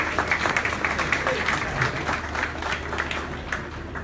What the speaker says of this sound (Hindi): उस बंदे को मैं समझता हूँ कि जोरदार तालियों में खराजे तहसीन पेश करिए